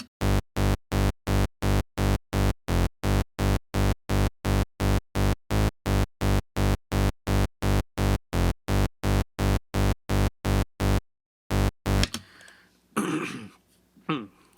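Synth bass built from a single Harmor layer pulses in a fast, even run of loud, buzzy repeated notes for about eleven seconds, then breaks off, followed by a brief voice.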